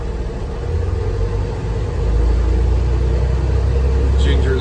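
A car in drive with its back wheels spinning at about 5 miles an hour, giving a steady low engine and driveline drone that swells slightly partway through, close and loud, with no talk.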